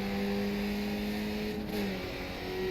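Skip Barber race car in iRacing at Circuit de Barcelona-Catalunya, engine droning loud and close as it accelerates, pitch climbing then dropping briefly with a gear change before rising again.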